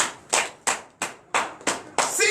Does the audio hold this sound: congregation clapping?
yes